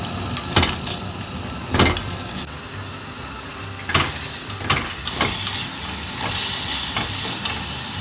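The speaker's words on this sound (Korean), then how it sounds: "마지막으로 다진 마늘 넣고 볶아줍니다" Minced garlic stir-fried in a pan with meat, chili powder, pepper and salt for spicy cheonggukjang stew: a loud hissing sizzle punctuated by spatula scrapes and knocks, swelling into a stronger steamy hiss in the second half.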